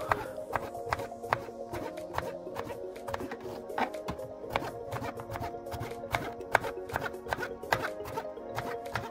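A knife chops zucchini with its skin on against a cutting board in quick, regular strokes, each a sharp close tap, repeating steadily throughout with no talking.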